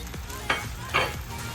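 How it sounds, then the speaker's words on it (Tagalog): Salmon fries in a hot pan with a continuous close sizzle and two louder spatter-like bursts over a brief moment. "Pritos lang natin."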